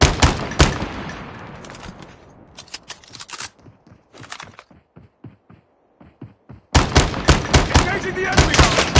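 Gunfire in Call of Duty Mobile: dense, loud bursts of rapid shots, then scattered quieter fire and a short lull before another close, sustained volley.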